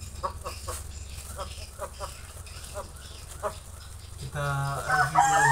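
A Bangkok game rooster crows loudly and close by near the end, following a stretch of scattered clucking and background farmyard noise.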